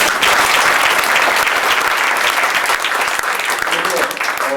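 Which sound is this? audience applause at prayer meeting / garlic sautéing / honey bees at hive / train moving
audience applause at prayer meeting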